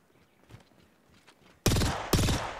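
Gunfire in the Apex Legends video game, with faint shuffling and distant pops at first, then two loud, close bursts of shots that cut in abruptly.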